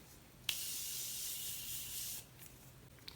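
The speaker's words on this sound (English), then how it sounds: "I'm gonna go ahead and spray my face with my Morphe setting spray one more time." A single close burst of Morphe setting spray onto a face hisses for nearly two seconds after a sharp click, then stops. A faint click follows.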